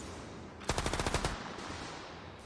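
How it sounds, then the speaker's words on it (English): A German machine gun fires in a WW2 video game: one short, fast burst of about ten evenly spaced shots, sharp and fairly close over a steady battlefield hiss, followed by quieter background noise. "The machine gun from the Germans, probably man of the match at this stage."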